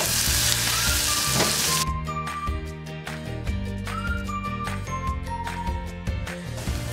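Onions frying in a pan for prawn biryani: a loud, steady sizzle close by, with occasional stirring and faint whistling tones over it.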